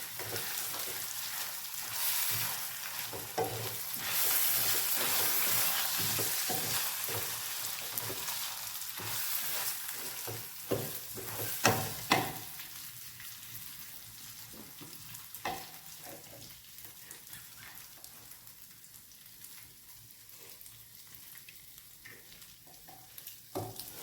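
Water goes into fried biryani masala for a Thalassery mutton biryani and sets off a loud, hissing sizzle. The sizzle comes with stirring scrapes and bubbling that steadily die down over the next twenty seconds.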